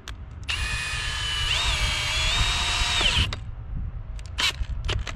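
An electric drill with a wood-splitting bit whines steadily for about three seconds, its pitch rising as it bites into wood, then stops, leaving a few light knocks and clatter.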